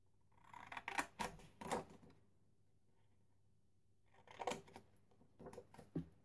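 Scissors snip through backpack fabric to cut away the corners of a side pocket, several quiet close cuts in two clusters separated by a pause.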